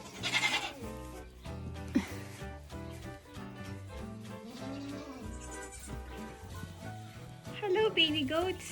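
Baby goats bleating on a farm, a series of wavering, nasal cries rising and falling close by, with a person's voice talking softly in between.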